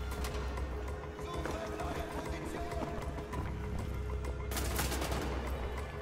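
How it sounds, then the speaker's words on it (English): Gunfire rattles through a Wolfenstein: The Old Blood firefight as steady, fairly quiet bursts. A low droning rumble and the game's background noise sit under the shots, and near the end the firing grows briefly harsher. "Wait, who the hell is shooting at?"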